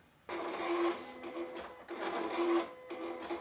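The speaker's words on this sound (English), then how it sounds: "we'll go ahead and send that to the machine and let it get foiling" A Silhouette cutting machine foiling with a Foil Quill gives two close, quiet bursts of whirring, buzzing motor movement with short pauses between them, starting after a moment of near silence.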